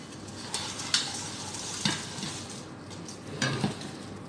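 Browned melted sugar goes into a pan of fried sweet fingers, giving a steady sizzle broken by a few sharp scrapes and clinks of stirring, close and without talk.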